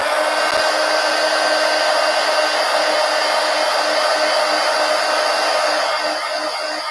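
A hair dryer blows on a wet journal page, a loud, steady, close whoosh and motor whine that holds even for the whole stretch with no talking.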